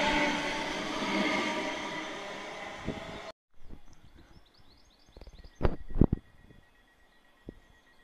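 A Class 385 electric train, unit 385114, at Croy station, heard first as a loud close rumble, then after a cut as quieter rail noise with sharp clanks and a few brief tones.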